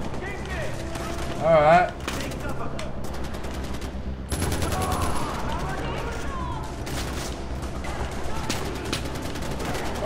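Bursts of automatic gunfire crackle through a firefight in Far Cry 4, shots scattered and fairly close, running over steady game background noise with a person talking at times.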